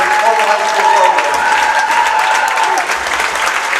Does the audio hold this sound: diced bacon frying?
no